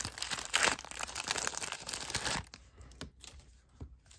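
A foil pack from a 1997 Bowman baseball card hobby box is torn open, giving a loud crinkling rip followed by quieter crackling and rustling of the wrapper, with no talking.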